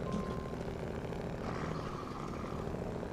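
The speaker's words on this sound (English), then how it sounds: "I really like the idle sound of this truck" A truck engine idles in a video game, a faint, steady low drone that holds evenly throughout with a soft mechanical hum.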